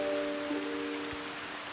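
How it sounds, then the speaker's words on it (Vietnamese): Heavy rain pours over the Truong Son mountain forest as a steady, broad wash of close hiss with no break, a faint hum running through it. "mưa rất lớn các bạn"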